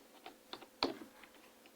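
Faint, sparse keystrokes tap on a computer keyboard at an irregular pace, with one slightly louder click, heard close and alone without talk.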